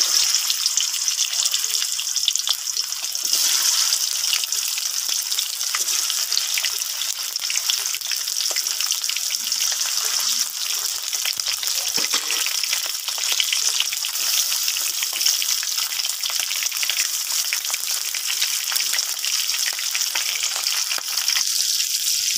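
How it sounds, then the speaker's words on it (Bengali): Hilsa fish pieces frying in hot oil in a wok, a loud, continuous close-up sizzle with dense crackle that holds steady for over twenty seconds with no voices. "আমি প্রথমে মাছগুলো ভেজে নেব।"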